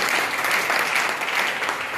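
Audience applause fills the moment, a close, dense crowd of hands clapping in a steady, lively patter for about two seconds, with no talking.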